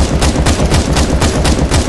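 Continuous automatic gunfire in the CS:GO zombie escape mod, on the Oblivion Castle map, pounds out loud, close and evenly paced, with shots packed in a steady rapid rhythm and no pause.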